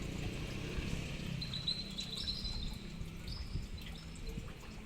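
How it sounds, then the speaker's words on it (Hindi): Koels and other birds call outdoors in monsoon-season countryside, with faint, high chirps and whistles scattered over a steady background wash, distant and quiet. "पीछे कोयल के बोलने की आवाज़ आ रही है"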